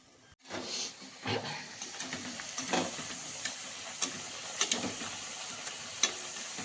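Methi puris deep frying in hot oil, the last two of the batch, give a steady bubbling sizzle with scattered crackles and light pops, close and moderately loud, no voices.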